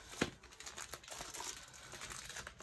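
A large plastic bag of diamond art drills crinkles and rustles close up, a continuous busy crackle with a sharper crunch near the start.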